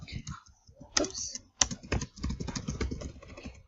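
Typing on a computer keyboard while a post or page is written, coming as quick bursts of light clicks and pauses, close up and fairly quiet.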